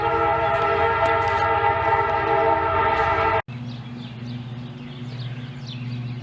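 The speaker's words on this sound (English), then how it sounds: "Yeah, here comes a train." A train blasts its horn loudly and continuously close by, a harmonic chord that cuts off abruptly, leaving a lower rumbling drone of passing rail cars near an onion garden.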